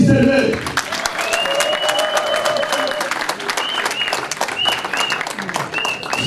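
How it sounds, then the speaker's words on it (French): An audience at a Canadian campaign launch for Félix Tshisekedi breaks into sustained applause for a former party president, loud dense clapping with cheers and whistles over it. "professeur Marc Appel, applaudissez-le."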